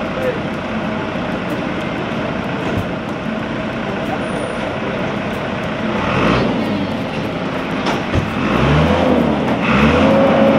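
A Porsche 944 Turbo engine runs close by with a steady, broad rumble over background noise, swelling louder in the last few seconds.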